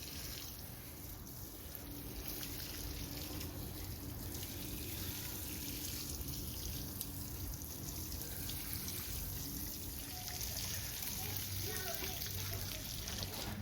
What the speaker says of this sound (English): And now we'll have to water it in.